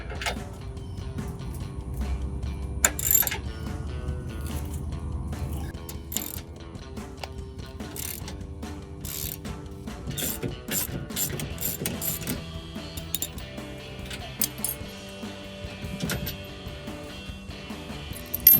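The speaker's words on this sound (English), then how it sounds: "I'm either gonna use a 19mm socket or box wrench, whatever your preference is" Socket wrench ratcheting on a rusted hitch bolt of a Jeep Wrangler YJ during a rear bumper install, irregular clicking bursts and metallic clatter close by over a low background hum, with no talking.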